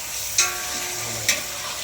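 Chicken for biryani fries in a pan with a steady sizzle, and two brief sharp scrapes mark stirring strokes against the pan.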